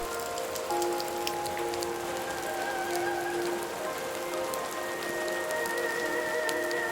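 Steady autumn rain at a Shinto shrine in the Japanese countryside, a constant hiss of drops pattering on surfaces with scattered brighter taps and a faint tonal hum underneath, no voices.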